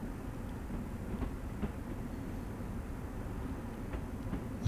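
Long Island Rail Road M7 electric train in the game Train Sim World, a steady moderate rumble of the cab running along the track with faint rhythmic clicks and no talk.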